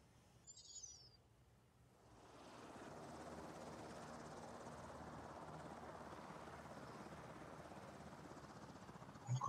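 A helicopter's rotor drone in the Carrier Deck video game, rising after a short chirp and then holding a steady, even whir while the aircraft comes down to land, no talk.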